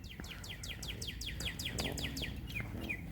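A series of quick, rhythmic bird chirps repeating over a low background rumble in a park in Ohio, with a couple of sharper tweets near the end.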